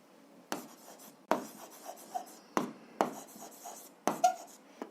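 A pen writes on paper in short bursts: four or five strokes with scratchy scribbling between them, close and fairly quiet, with no talking.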